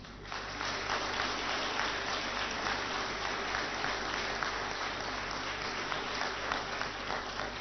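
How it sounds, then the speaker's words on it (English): Steady applause from a large audience at an awards ceremony in India, a dense continuous wash of clapping that holds evenly from start to finish with no voices over it. "A round of applause, please."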